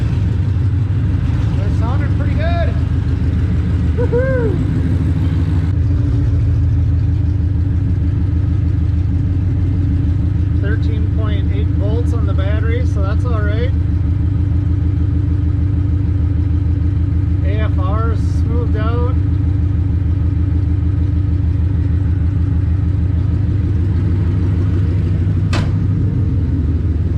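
A car engine idling after sitting unused since October 2019, a loud, close, steady low rumble with a slight unevenness, while people talk briefly and cheer over it.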